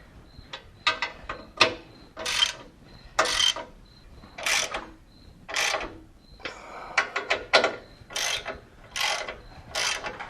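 A hand ratchet snugs the 9/16 bolts and extruded U-nuts holding the front skid plate of a 2014-2018 Silverado during a 7-inch lift install, making close, steady bursts of rapid clicking that repeat throughout with short pauses.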